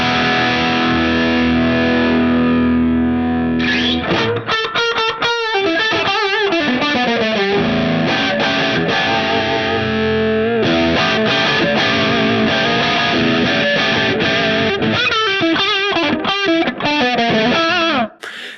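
Distorted electric guitar runs through Guitar Rig 6 amp simulation with the air and room space setting raised, playing a loud, continuous riff of sustained chords and rapid note runs that cuts off at the end.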